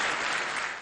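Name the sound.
ovation in the UN General Assembly chamber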